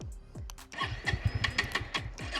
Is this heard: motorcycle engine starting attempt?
yes